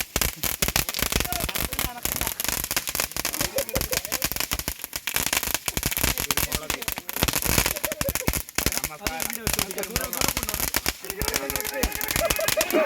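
Firecrackers bursting at a Vishu celebration, dense rapid crackling and popping packed together almost without pause, with loud sharp cracks throughout and voices mixed in underneath.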